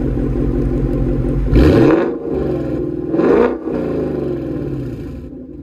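The active exhaust of a 2019 Ford Mustang GT rumbles loudly and steadily, swelling twice into brief revving bursts before settling back to a deep idle burble.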